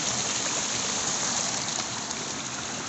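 A river pouring straight down a steep waterfall makes a dense, unbroken hiss of falling water, loud and close, steady from start to finish with no voices over it.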